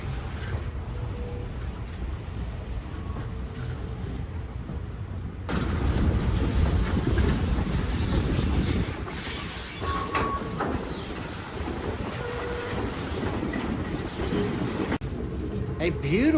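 A train runs along a scenic river railway in Tennessee with a steady rumble and clatter of railcars. The noise swells louder midway, with occasional squeals over the rolling noise.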